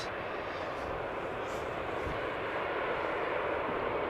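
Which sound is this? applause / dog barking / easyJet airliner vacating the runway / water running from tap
easyJet airliner vacating the runway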